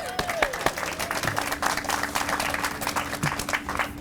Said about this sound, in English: That's okay, you can applaud